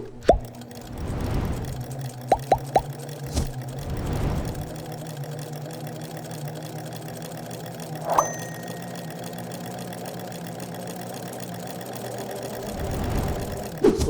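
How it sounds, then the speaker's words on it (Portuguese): A sewing machine fitted with an overlock-style cutting presser foot stitches and trims fabric, with a steady motor hum, scattered sharp clicks and a few louder surges along the way. "Observe então aqui que enquanto estou costurando, uma parte do tecido está sendo cortada aqui no canto direito, da mesma forma que é feito numa máquina overlock"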